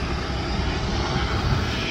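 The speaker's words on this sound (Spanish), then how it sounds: "me alegro por ese mega avión que acaba de aterrizar." A large airliner landing at a Houston airport, its engines producing a loud, continuous broadband roar that holds steady for the whole short stretch, with no talk over it.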